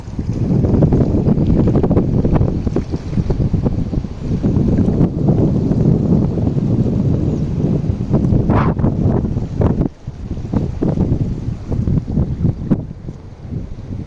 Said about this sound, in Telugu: ఘోరంగా అంటే ఘోరంగా వస్తుంది వరద